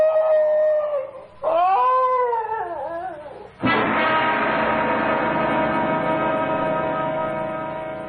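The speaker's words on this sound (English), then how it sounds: "Now, what's all that? Why, it's the Higley dog." A dog howls and whimpers in long, wavering rising and falling cries, loud and close, then breaks into one sustained, steady howl that slowly fades over several seconds.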